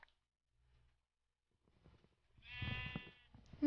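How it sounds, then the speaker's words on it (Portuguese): A single sheep in a video game bleats clearly with a wavering, nasal tone, preceded by faint scattered rustling and quiet background noise. "aqui tem muita ovelha"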